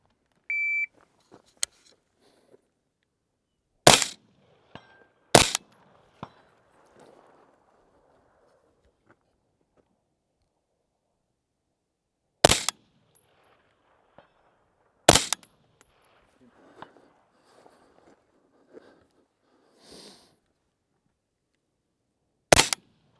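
Airsoft SPR rifle firing 6mm projectiles: five sharp, isolated cracks spaced several seconds apart, loud and close, with faint handling noise and quiet stretches between shots.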